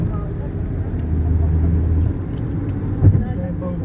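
Road traffic passes on a city street in Toronto, heard as a low, steady rumble of car and bus engines with a brief louder swell near the end, while people talk nearby.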